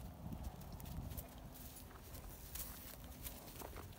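A horse's hooves clip-clop at a steady walking pace during an evening walk alongside a Bullmastiff, close and moderately loud over a constant outdoor background.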